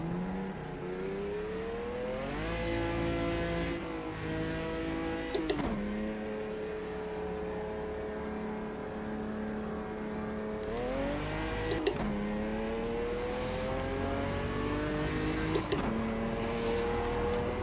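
Stock car engine in a Brazilian Stock Car racing game, a steady loud drone with rising pitch sweeps as it accelerates, dropping briefly at gear shifts around every few seconds.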